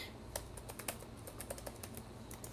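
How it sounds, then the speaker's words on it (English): Rapid typing on a computer keyboard, a steady run of light, close clicks and taps with uneven rhythm and no voices. "I can't type and talk."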